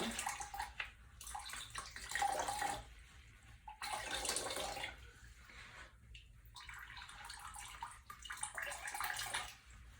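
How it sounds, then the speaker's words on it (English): Alpaca wool is rinsed in a tub as water sloshes and splashes in uneven bursts, with short quieter gaps between the swishing movements. "we're gonna begin our first cycle of non-soapy water, just to rinse"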